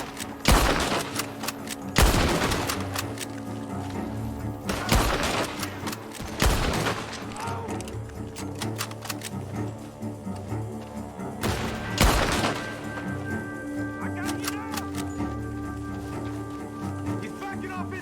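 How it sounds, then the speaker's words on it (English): Gunfire from a barn in Red Dead Redemption 2, with loud close shots and bursts of several rounds scattered through a tense ambient background while characters shout. "The gunshots are coming from that barn!"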